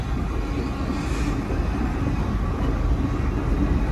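A BNSF freight train of automobile racks rolls past near Chicago, a steady low rumble of rail cars and wheels holding loud and even throughout.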